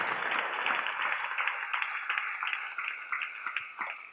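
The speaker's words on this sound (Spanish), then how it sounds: "Dale ese aplauso al Rey en esta hermosa y linda oportunidad." Applause from a church congregation during a sermon, a fairly soft, continuous patter of many hands clapping with no talking over it.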